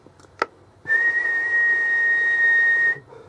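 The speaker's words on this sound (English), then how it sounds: "it should be doing 25 on a whistle" A person whistles into the microphone of an Alan 9001 SSB radio to test transmit power: a short chirp, then one steady, loud, pure whistle held for about two seconds before stopping.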